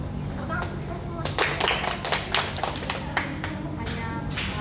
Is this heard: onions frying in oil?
no